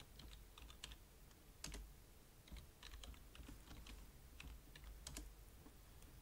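Typing on a computer keyboard, a steady run of light, quick key clicks over a faint background hiss, close and fairly quiet, with no talking.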